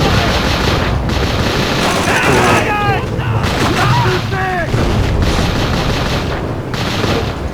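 Dense gunfire from Call of Duty: Roads to Victory, including sniper shots, cracks out in rapid loud volleys over continuous battle noise, with a voice briefly speaking.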